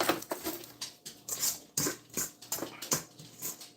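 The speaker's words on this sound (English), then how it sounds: "my dog is very much like a child who wants to lick the bowl after cakes" Dog in a home kitchen eager to lick a cake batter bowl, producing quick, irregular patters, clicks and snuffling sounds close by, steady small bursts throughout with no one speaking.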